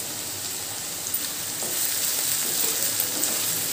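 Beans and egg frying in a pan after the lid is lifted, a steady bright hiss of sizzling with occasional soft pops and light stirring, no voices.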